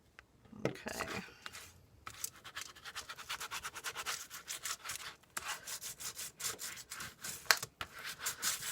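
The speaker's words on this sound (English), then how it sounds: "you see how you're scrubbing that along and you end up with this really, really amazing grungy look" Bristly scrubbing of a brush across a mixed media art surface to build a grungy texture, with repeated rapid rubbing strokes in bursts, close and fairly soft, and no talking.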